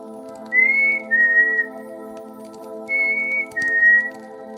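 Clear whistling imitates a bird's love note: two gliding whistled phrases, each a rising tone that steps down, repeated twice with a pause between them, over a steady low hum.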